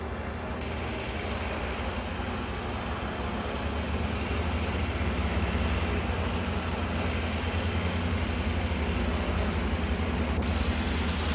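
Bushmaster aircraft engines at full takeoff throttle on the runway, a loud, steady, unbroken roar that holds at the same strength for the whole stretch, with no voices.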